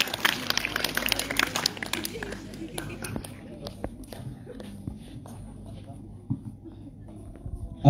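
Applause for a school student council candidate pair at a debate rings out as a scattered patter of clapping from an audience, busiest at first and thinning out, with speech mixed in.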